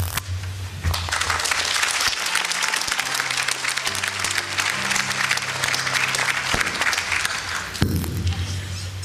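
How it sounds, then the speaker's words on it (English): Sustained audience applause at a live performance event, loud and dense throughout, with a low musical hum and a brief voice underneath, swelling again near the end. "I applaud all you guys one more time"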